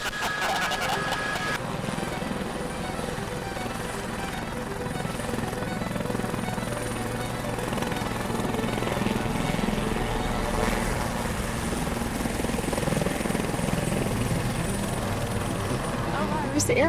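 A helicopter's loud, continuous rotor and turbine drone fills the whole stretch as it departs Scottsdale airport, heard from close by with steady intensity.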